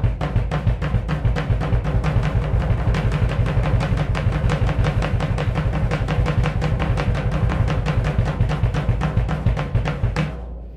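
Rapid, even single strokes alternate between a low-tuned floor tom and bass drum, giving a booming double-bass-drum effect; a steady loud stream of thuds played alone for about ten seconds before stopping abruptly.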